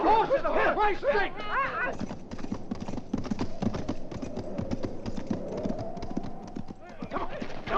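Horses' hooves clopping as riders mount up, with a horse whinnying at the start and shouting men over the steady, close stamping and clatter of hooves.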